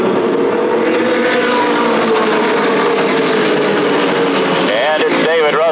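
Limited late model race cars roar together at a 1988 New Smyrna Speedweeks race as the green flag drops, a loud dense pack of engines at close range with a commentator talking over them.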